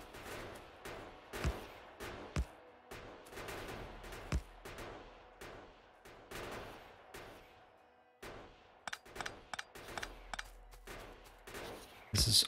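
In the video game Factorio, turrets fire at worms in rapid, irregular bursts of short, sharp shots that continue throughout at a moderate, distant level.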